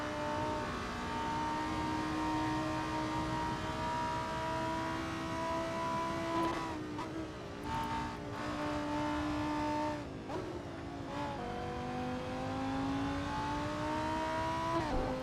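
A Lamborghini Huracan GT3 race car engine in the Assetto Corsa racing game holds a loud, steady high-revving drone, with several quick dips and rises in pitch as it shifts gears and accelerates.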